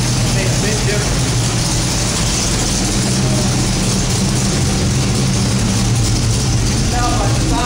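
A 1969 Pontiac GTO idling after its carburetor was adjusted, a loud, steady low rumble that stays close and even throughout, with the engine running smoothly.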